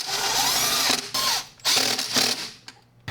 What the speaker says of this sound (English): So let's go ahead, tighten these 2 bolts.